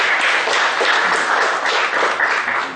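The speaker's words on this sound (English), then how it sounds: "Please thank the speaker with a great round of applause." Dense, steady audience applause fills the whole stretch, loud and continuous, as a workshop audience on transfer pricing thanks a speaker in a lecture hall.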